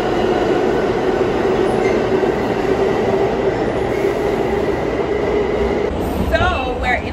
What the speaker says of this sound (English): So we're in the train